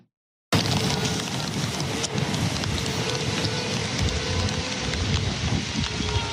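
A heavy nighttime thunderstorm over central Saskatchewan, with dense, steady rain and hail pounding surfaces and strong wind, a loud continuous roar starting abruptly after a brief silence.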